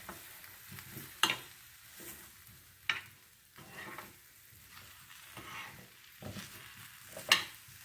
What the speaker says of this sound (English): The Brussels sprouts have been cooking for about 30 minutes. This is the second time I've stirred them around.